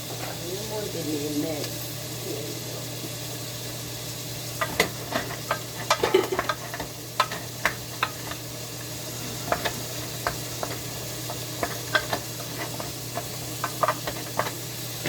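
Beef for an okra stew fries in a pan with a steady sizzle and hiss, while a utensil scrapes and clicks repeatedly against the pan; faint talk and a low hum sit underneath.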